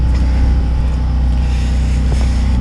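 A 2003 Chrysler PT Cruiser engine runs at a steady, close idle with a constant low hum and a faint whine, heard alone without talk.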